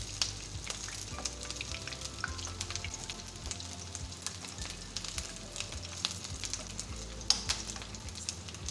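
Urad dal vadas (dahi baray) sizzle steadily in hot oil, a continuous close crackle with faint scrapes and light clinks as they are turned.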